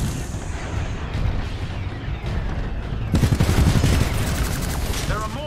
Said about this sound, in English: There are mortar Titans launching rockets at the harvester.